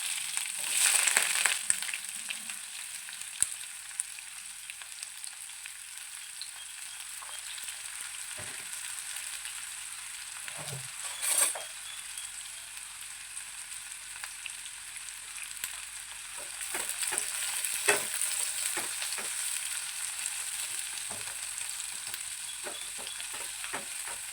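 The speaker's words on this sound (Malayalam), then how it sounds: "നമുക്ക് സവോള ഇട്ട് കൊടുക്കാം." Onions sautéing in a pan with cumin for kadala curry, a steady bright sizzle throughout with occasional stirring scrapes and clicks, close and fairly faint, no talk.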